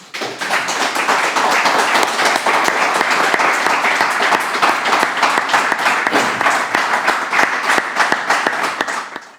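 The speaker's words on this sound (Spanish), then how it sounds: "de verdad se merece un enorme aplauso" An audience at a Spanish-language book talk gives a long round of applause, dense steady clapping with sharp individual claps standing out nearby.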